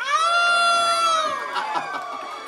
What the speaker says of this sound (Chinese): 尖叫一下！